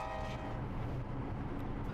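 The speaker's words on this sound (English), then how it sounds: "we waste no time getting ahead of the long train pounding north out of Miami" A long freight train pounds north out of Miami, giving a steady, loud rumble of rolling cars with tonal ringing or horn-like hum layered over it, continuous and fairly close.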